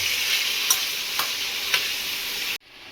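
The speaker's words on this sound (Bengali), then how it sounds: "ভালো করে এটা 4 থেকে 5 মিনিট মতন নাড়াচাড়া করে নেব" Onions stirred and frying in a pan for a Bengali black-pepper chicken dish, a steady close sizzle with three brief scraping stirs, ending abruptly.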